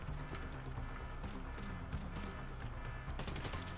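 Gunfire crackles in the video game GTA 5 during a shootout, with shots tangled in dense, loud game action and a sharp burst near the end.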